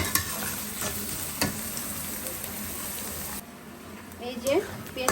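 Onion fries in a pan for khichuri, a steady close sizzle with stirring scrapes that eases after about three seconds, and a voice speaks near the end.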